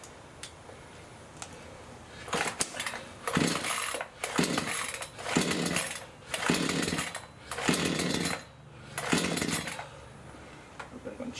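A Full Boar 53cc chainsaw is pull-started over and over after being flooded, each yank giving a short rattling burst of engine turnover with quiet gaps between, up close and never catching.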